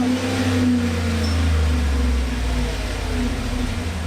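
A 2017 Chevy Silverado's 5.3L V8 with a Flowmaster Super 10 muffler rumbles loud and close, the deep exhaust tone swelling and easing as the engine revs, with no voices over it.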